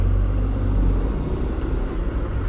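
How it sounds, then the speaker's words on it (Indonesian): A truck carrying building sand passes on a narrow village road, its engine a steady low rumble that stays loud and close for the whole stretch without any talking. "Ini adalah truk pembawa pasir bangunan."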